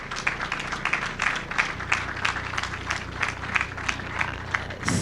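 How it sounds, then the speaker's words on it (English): Applause from the audience at a charter school board meeting, a steady patter of claps filling the whole stretch, moderately loud, with a brief louder swell at the very end. "So give Scott a big round of applause."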